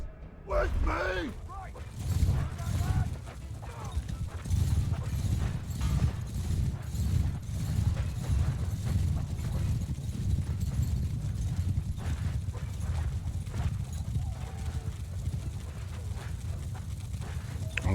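Horses gallop across a battlefield in the Bannerlord video game, with continuous rhythmic hoof clatter throughout, and voices talk over the hooves.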